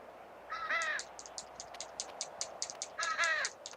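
A crow in the GTA 5 game world caws repeatedly and loudly, a harsh rasping call at the start and again near the end, with a quick rhythmic series of clipped clicks or calls in between, no talk.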